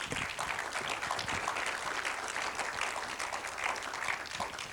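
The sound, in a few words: audience round of applause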